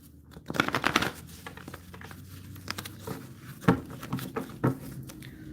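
Tarot cards being shuffled by hand, with papery riffling and crinkling near the microphone: a dense burst early on, then scattered softer flicks and taps.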